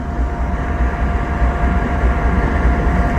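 A heavy diesel engine drones loudly and steadily with deep low rumble, a big Union Pacific SD60 or SD70 freight locomotive passing close by without letup.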